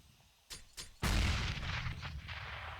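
A grenade blast in Counter-Strike on the Overpass map follows two short gunshot cracks and booms loud and close. A rumbling tail trails off over the next second and a half.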